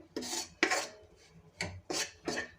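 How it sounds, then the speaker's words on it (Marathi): Wheat flour being roasted in a pan while its lumps are broken up: about five or six close, dry scraping strokes, each one a rough rasping sweep with short pauses between them. "छान लालसर होईपर्यंत आपल्याला हे पीठ भाजायचं आहे तर ह्या गाठी पण आपल्याला अशा फोडून घ्यायच्या आहे"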